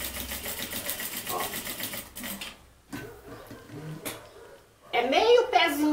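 Domestic sewing machine stitching a 3D fabric face mask, running slowly in short bursts with a buzzing mechanical whir, heard alongside someone talking nearby.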